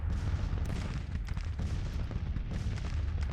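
Massed musket volleys from a Civil War-era infantry brigade in Grand Tactician, a dense, continuous crackle of overlapping shots with low rumbling booms, steady and moderately distant, no talking.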